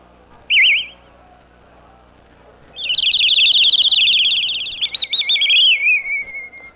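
An AI-programmed synthesizer produces clean, abstract imitations of bird tweeting: a short warbling chirp, then a longer, louder run of wavering whistled trills that ends in a gliding, fading tone, with no voices.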